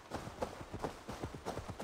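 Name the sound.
horse hooves galloping in video game Assassin's Creed Valhalla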